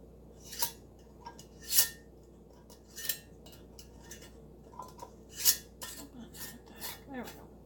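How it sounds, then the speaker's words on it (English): Metal lids placed and screwed finger-tight onto glass canning jars of bone broth, a series of separate clinks and short scraping twists at an unhurried pace, close by in a quiet room. "we'll put your lids on."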